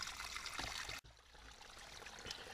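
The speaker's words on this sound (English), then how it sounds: "I've got my hydration pack set up and water is going into it and filling it up pretty good" A small waterfall pours into a hydration pack in an outdoor camp setting, making a steady, close rush of trickling water that fills the whole clip. There is a brief sharp dropout about a second in.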